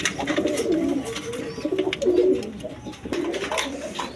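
Pigeons in a sale coop coo repeatedly in soft, throaty, rolling calls up close, overlapping one another against a busy background of scattered clicks and rustles.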